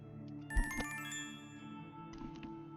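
A mobile phone rings on a bathroom countertop with a quiet, melodic ringtone of bright, sustained tones that rise and repeat briefly, with no one talking.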